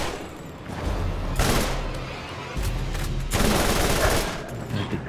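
Ajax's Spear, an Atlas combat rifle in Borderlands, firing in two sustained bursts of rapid automatic gunfire, loud and close, with quieter in-game ambience between the volleys.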